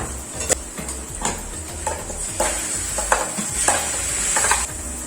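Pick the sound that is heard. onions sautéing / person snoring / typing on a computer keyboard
onions sautéing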